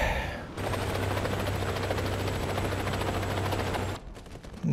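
A military helicopter in the combat game War Thunder drones loudly and steadily with a rapid rotor chop for several seconds, then drops away abruptly.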